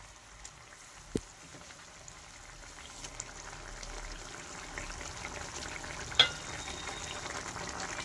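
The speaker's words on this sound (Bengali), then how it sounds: "দেখুন জলটা ফুটে গেছে" A pot of water for katla fish curry bubbles and sizzles steadily at a low level, with a few sharp clicks and taps from the pot or lid.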